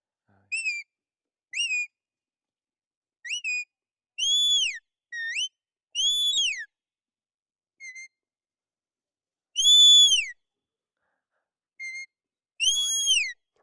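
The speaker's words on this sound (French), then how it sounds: "je peux donner les ordres avec le sifflet" Sharp, high shepherd's whistle blasts commanding a herding dog on a farm, in short rising-falling bursts, some single, some paired, with pauses between, clear and close in open quiet.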